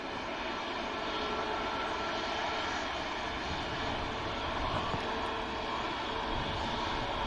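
A Virgin Atlantic airliner at Manchester Airport, its engines a steady, distant broadband roar that holds evenly throughout.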